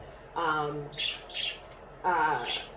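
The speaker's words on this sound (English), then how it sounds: "look at the birds are chirping" Birds chirping outdoors: short, bright chirps repeat in quick bursts, with fuller, tonal calls standing out at moderate loudness over a faint steady background.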